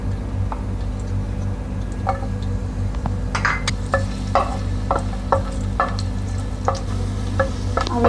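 Steady low sizzle of chopped garlic frying in hot oil, with scattered clicks and taps of a utensil stirring in the pan; no talking.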